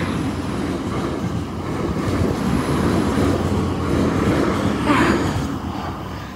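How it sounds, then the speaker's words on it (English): Train passing at a distance, a steady broad rumble and rolling clatter that swells slightly toward the middle, heard outdoors with no talk. "Oh, a train."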